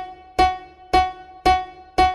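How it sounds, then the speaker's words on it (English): Four struck grand piano notes at an even pace, each with a sharp loud attack that quickly decays, heard alone and close. "when you hit your grand piano like this"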